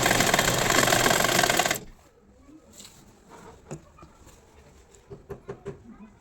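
An electric sewing machine stitches the side seam of a kurti in a steady fast whir for under two seconds, then stops, leaving faint clicks and fabric handling nearby.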